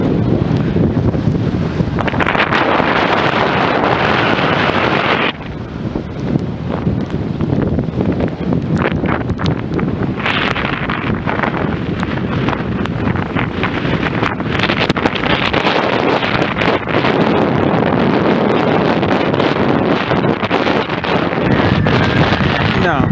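Strong wind roars and buffets the microphone continuously in a storm at Vlieland harbor, gusting louder and softer, with faint water and harbor sounds and a voice partly buried beneath.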